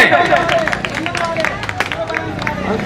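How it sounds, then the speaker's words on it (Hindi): An audience at a public gathering gives a short burst of clapping and crowd noise, with a voice speaking loudly over it throughout. "इसके लिए एक छोटी सी तालियां हो जाए।"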